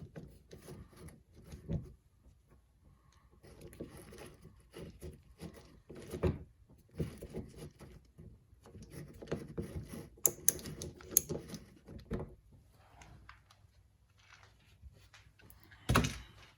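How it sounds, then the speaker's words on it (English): A Torx bit works a fastener loose to remove a part from the old liftgate glass hinge of a 2008-2012 Ford Escape, producing close, irregular metallic scraping, clicks and rubbing knocks without talk. "we can go ahead and use our Torx bit to completely remove this from the old hinge"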